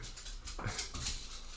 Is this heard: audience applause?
no